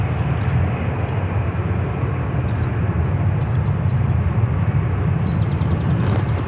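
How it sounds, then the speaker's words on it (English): A Boeing 737-800 airliner departing on a flight to Reno, heard as a steady, broad jet roar at moderate distance that holds for several seconds without talk. "a flight to Reno, Nevada, flight 2722, 737-800"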